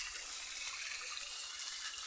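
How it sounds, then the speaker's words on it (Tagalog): Stream-fed tap water gushes in a strong, steady rush that fills the whole short stretch, close by and unbroken, with no voices over it. "Lakas yung tubig kasi galing siya sa sapa."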